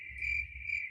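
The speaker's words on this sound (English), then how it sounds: "where's your test? Crickets." A cricket chirping sound effect plays: a steady, shrill, continuous trill with two slightly stronger pulses, loud and alone with no speech over it.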